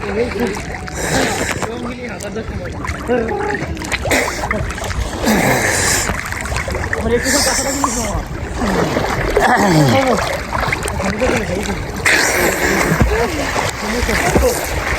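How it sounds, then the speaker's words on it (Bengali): Several people bathe in a river on a hot day, splashing and sloshing water close by while talking and calling to each other almost the whole time. "নদীতে গোসল করতে আসলে বেশ মজা আছে"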